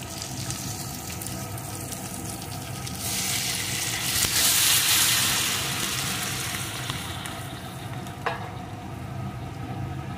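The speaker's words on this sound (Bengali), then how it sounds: "এখন এর ভিতরে আমি দিয়ে দেব উষ্ণ গরম জল।" Warm water poured into a pan of frying mixed dal and vegetables sets off a loud, swelling hiss that peaks and then eases back into a steady sizzle, close up with no voices.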